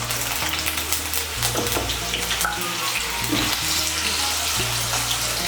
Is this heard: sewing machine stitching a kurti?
no